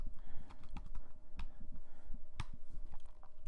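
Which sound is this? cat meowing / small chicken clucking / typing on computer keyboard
typing on computer keyboard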